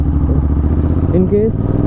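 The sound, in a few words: Royal Enfield GT650 motorcycle engine running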